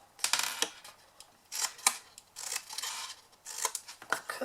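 Scissors snip through the corners of a scored paper box, crisp close cuts in short bursts of two or three snips separated by brief pauses.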